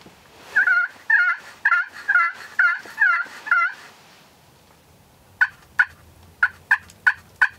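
Wild turkey toms gobble on a cold, snowy morning during a hunt: a run of six loud, rolling gobbles, then a pause and a faster series of six sharper, clipped calls, close by and with no talking.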